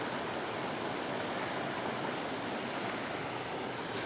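River water flowing close by, a dense, steady broadband rush that stays even and loud throughout with no voices.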